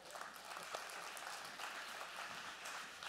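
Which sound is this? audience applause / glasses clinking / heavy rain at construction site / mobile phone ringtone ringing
audience applause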